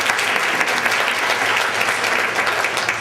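An audience claps in a meeting room at a district annual business meeting, a dense, steady round of applause held loud and close for the whole stretch, with no speech over it.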